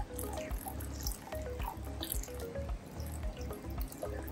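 Frozen fish food being rinsed with a mix of RO water and salt water, a soft, steady trickle and splash of running water with small drips, close and quiet, with no talking.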